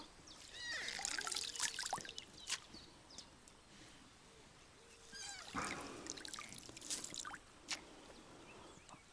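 River water on the Dniester trickles and splashes as the water rises, with bursts of sloshing and gurgling that come and go, nearby and moderately quiet, with no talking.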